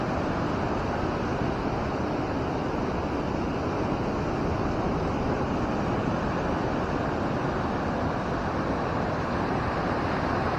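Big ocean waves at Pangandaran beach in West Java, a continuous heavy roar of surf mixed with wind buffeting the microphone, steady and loud for the whole stretch with no voices.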